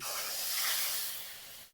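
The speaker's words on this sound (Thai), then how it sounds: "ใส่ไปด้านขอบๆกระทะนี่นะครับกระทะมันจะร้อน เขาเรียกว่าการฉาน้ำปลานะครับ" Fish sauce poured along the edge of a hot wok sizzles in a brief, bright hiss that swells and then fades over under two seconds, close and fairly quiet with no talk.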